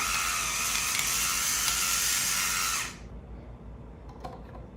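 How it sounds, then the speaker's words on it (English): A pepper mill grinds black pepper as a steady, loud mechanical rasp for about three seconds, then stops abruptly, leaving faint room sounds and a soft click. "And a little grind of black pepper going in."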